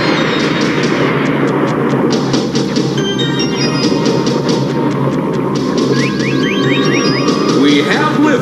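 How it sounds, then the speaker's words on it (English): Cartoon rocket launch liftoff, a loud sustained roaring rumble with continuous broadband noise and faint higher tones, filling the scene for several seconds. "We have liftoff. We have a liftoff."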